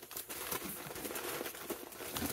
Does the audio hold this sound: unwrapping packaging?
yes